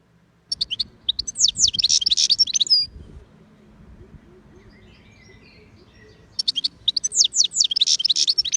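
Two bursts of bright, rapid bird song, a quick twittering phrase, then a pause with faint calls before the song returns, close and clear.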